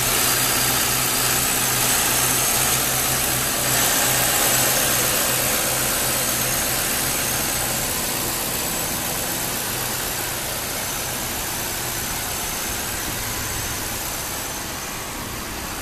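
A 2008 Ford Crown Victoria police car idles with a steady, even engine hum that holds close and constant throughout, slowly easing a little quieter toward the end.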